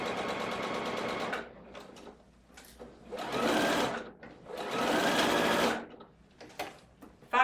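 A sewing machine stitches a seam on a Grace peasant top, running in three close, loud bursts of rapid mechanical whirring separated by quiet pauses while the fabric is lined up.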